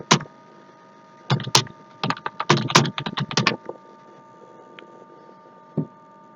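Computer keyboard typing comes in close, sharp bursts of clicks, a quick flurry in the middle with scattered single taps before and after, separated by quiet gaps and no speech.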